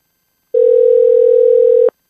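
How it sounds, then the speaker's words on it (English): A phone dialing tone sounds as a single steady, loud electronic tone lasting just over a second, starting and stopping abruptly against silence, while a call is placed. "let me ring him through real quick"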